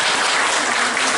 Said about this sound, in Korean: 환영 박수 한번 합니다.